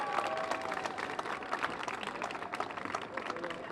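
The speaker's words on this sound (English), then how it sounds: "Let's give Elisa a big round of applause." A crowd at the neon sign revival outside the Avenue Theater in Portola claps and cheers for Elisa in a dense, steady wash of applause, with voices chattering underneath throughout.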